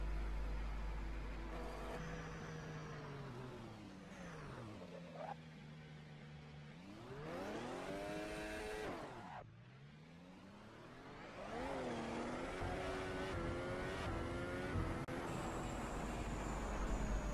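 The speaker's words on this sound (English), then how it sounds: "The car tends to bog down a lot at low revs. Then, as you reach a certain range of RPM, the boost comes." A Ferrari SF-15T hybrid race car launches from a race start, its engine note bogging low before climbing in rising, falling and rising revving sweeps as turbo boost arrives, loud and close with steady background noise throughout.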